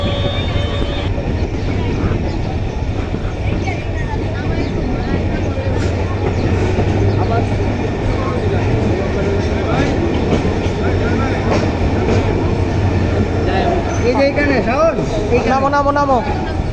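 A train rumbles steadily nearby at Netrokona Court railway station in Bangladesh with a low mechanical drone and faint clattering, continuous throughout with no pauses.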